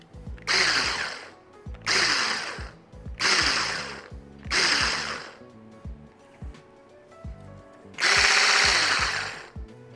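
A stand mixer without speed settings runs flat out kneading dough, roaring in five loud, strained bursts of grinding and rattling with short pauses between them.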